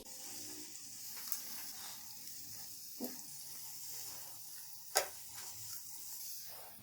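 Lunch-box pockets fry in oil until golden on both sides, giving a faint, steady sizzle with a few soft ticks and one sharper clack, and no voices.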